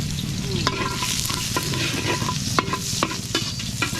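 Garlic and onion sautéing for bopis in a very hot pan, a loud dense sizzle with regular spatula scrapes and knocks against the metal, close and continuous.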